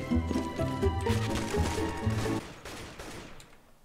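In a Roblox CS:GO-style shooter, a frag grenade goes off amid a rapid, dense burst of cracking blasts and gunfire for a few seconds, fairly loud, then trails away.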